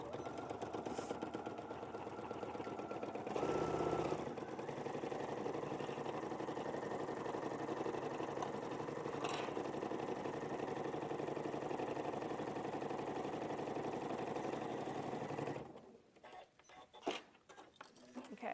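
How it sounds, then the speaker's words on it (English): A sewing machine stitches along the top edge of fabric pieces placed right sides together, a steady continuous mechanical whir running close and unbroken for about fifteen seconds before stopping, followed by a few soft handling noises. "we're just going to sew along with right sides together along that top edge 3/8 of an inch"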